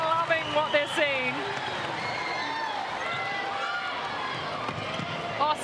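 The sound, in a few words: netball crowd cheering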